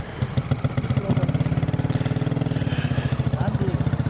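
A motorcycle engine idles with a steady, rapid thumping beat, heard up close while the bike is being parked in a bitterly cold mountain valley at around minus forty degrees, with a voice briefly present in the background.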